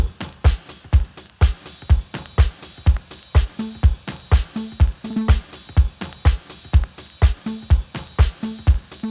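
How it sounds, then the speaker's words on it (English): A punchy breakbeat drum loop pounds steadily with kicks, snares and hi-hats in a fast, syncopated pattern, loud and upfront with no voices. "also added a second breakbeat."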